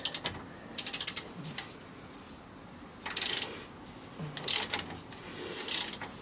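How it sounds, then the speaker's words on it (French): A telescopic ratchet with a 16 mm socket unscrews the ball joint nut of a car suspension control arm, sounding as several separate bursts of fast, close metallic clicking with quiet gaps between them. "une petite douille de 16, mon cliquet télescopique au cas où j'ai besoin de force"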